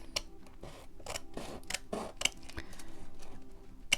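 Scissors snipping through a paper envelope, several crisp, close cuts in an uneven rhythm with short gaps, quiet and alone.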